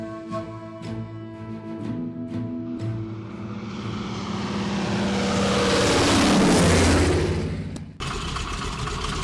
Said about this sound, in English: a float plane ride from Ketchikan to the Alaskan Dreams Lodge